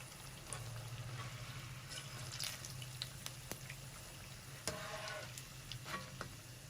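Puffed pakoras fry in oil until golden, giving a faint, continuous sizzle with scattered pops and a few soft clinks, heard close and without talking.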